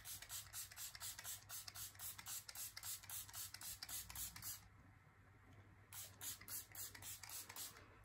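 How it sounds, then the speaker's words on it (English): Rapid bursts of a pump setting spray hiss onto a face in quick succession, a short pause, then another run of repeated spritzes close up. "she then goes in with a glowy setting spray"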